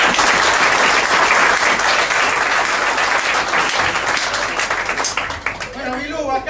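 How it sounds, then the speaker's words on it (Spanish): Loud, dense applause from a live audience at a comedy storytelling show, sustained clapping filling most of the stretch before tapering off as a voice briefly comes through at the end. "Un aplauso para la."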